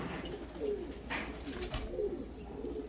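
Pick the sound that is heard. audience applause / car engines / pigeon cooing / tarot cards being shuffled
pigeon cooing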